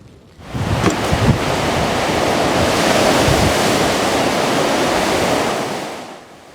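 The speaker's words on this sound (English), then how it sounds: "these gale force winds up to 50 miles per hour, 15-foot waves" Gale-force winds up to 50 mph drive large waves on a lake in January, a loud, continuous roar of surf and wind buffeting that fades out at the end.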